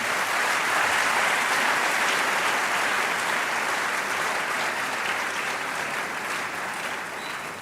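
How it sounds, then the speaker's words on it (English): A hall audience claps after a professorial inaugural lecture, with a dense, loud, even wash of applause that holds nearly unbroken and eases slightly toward the end. "Shall we please once again applaud him?"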